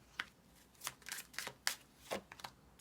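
Tarot cards are shuffled and handled close up, giving a series of quick papery riffles and soft flicks in uneven bursts, fairly quiet, with no talk.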